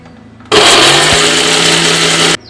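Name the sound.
mixer grinder grinding roasted spices into powder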